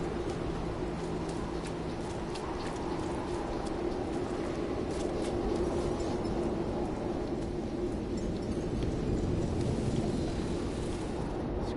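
A storm in the No Man's Sky game, with a steady wash of rain and low rumbling thunder sustained at an even level for about twelve seconds, with no one talking.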